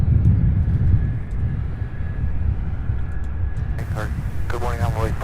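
A CRJ 700 United Express regional jet on its takeoff run gives a steady, broad low roar. A voice comes in over the rumble near the end.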